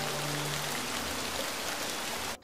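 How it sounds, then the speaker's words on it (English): Rain falling as a dense, even hiss of drops on surfaces, loud and close with no voices, fading sharply at the very end. "Oh, it's raining."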